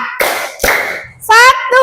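In a classroom lesson on artificial intelligence, two sharp hand claps ring out in a clap chant, a short gap between them, before a voice speaks.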